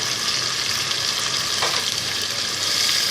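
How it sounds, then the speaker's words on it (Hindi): Pieces of boiled beef fry in a pan with a steady, close sizzle and crackle, and a faint stirring scrape shows up midway. "इसको हम हल्का सा कलर चेंज होने तक फ्राई करेंगे कि ये बोटियों पे थोड़ा सा ब्राउन कलर आ जाए"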